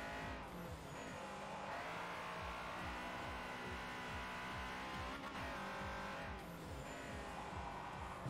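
Honda Civic in Forza Motorsport 4 with the engine revving up and down through gear changes, tires squealing under hard driving, close and fairly constant.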